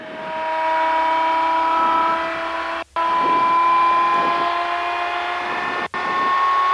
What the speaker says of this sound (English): we can continue to advance the throttle, which builds up that rotor speed